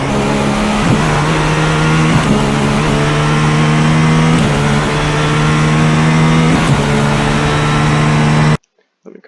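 A GTP prototype race car in iRacing on the Sebring circuit, its engine roaring loud and close at full power, with strong steady harmonics, brief shifts and revs, and a few small dips before cutting abruptly to near silence.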